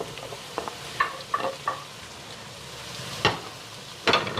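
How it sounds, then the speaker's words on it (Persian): Potatoes sautéing with browned meat and vegetables in a pot for Armenian makhokh abur soup, a steady close sizzle with occasional louder scrapes and stirring clinks. "سیب زمینی ها رو هم یه تفت میدم"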